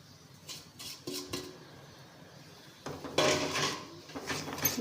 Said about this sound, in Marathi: यामध्ये जे बाजरीचं पीठ आहे ते घालून घ्यायचं आहे. त्याला पण छान ढवळायचं आहे.